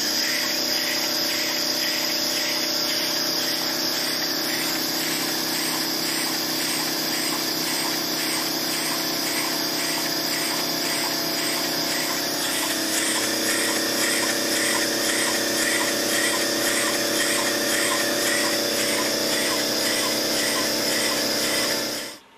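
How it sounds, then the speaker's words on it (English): A Lynx steam emergency generator runs on compressed air at 40 PSI from a small compressor, giving a loud, steady mechanical whir with a constant hum and a rapid, even beat throughout, with no talking. "It's not going to run too long because that air compressor is kind of small."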